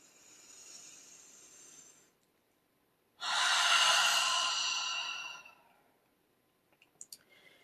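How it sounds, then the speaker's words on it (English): Slow deep breaths during a guided relaxation exercise: a soft exhale, a pause, then one long loud exhale of about two seconds, followed by quiet and a few faint clicks. "So take another 2 or 3 deep breaths like that."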